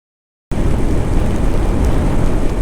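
Steady rain pours down during a motorcycle ride, a dense, loud hiss that starts abruptly and continues evenly with no break.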